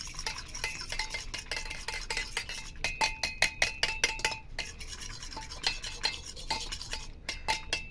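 A spoon stirring a mix of aloe vera gel and coconut oil in a small bowl: quick repeated clinking and scraping strokes against the container, close and steady, growing more rapid in the middle, with no talking.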